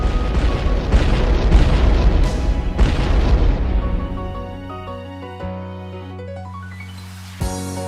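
A dynamite blast in the anime film Your Name starts as a loud, rumbling boom that rolls for several seconds, then fades into a softer musical passage with a brief sharp hit near the end.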